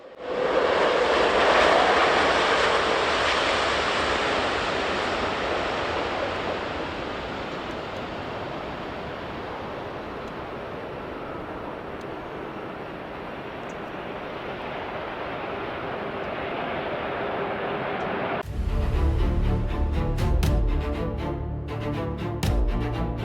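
A large airplane lands on the tarmac with a loud, sustained roar of engine and rushing noise that swells and eases, then shifts abruptly to a rougher rumble near the end.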